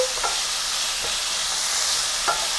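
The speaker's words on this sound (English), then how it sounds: "Add the heat. And cook until the onions are softened." Onions sizzling and frying in a pan for moringa drumstick curry, a steady broadband hiss broken by a few brief stirring scrapes, close and continuous with no talking.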